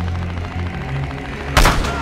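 A single loud sniper rifle shot in Battlefield Hardline cracks near the end, sharp and booming against a droning background of game ambience.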